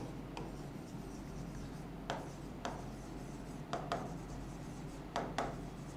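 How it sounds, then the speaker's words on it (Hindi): Chalk or marker writing a heading on a classroom board during a physics lesson, faint scratchy strokes coming in short separate bursts over a quiet room hum. "तो यहाँ पे हम हेडिंग लिखेंगे आइडियल वोल्ट मीटर।"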